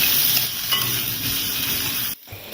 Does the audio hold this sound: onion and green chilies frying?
yes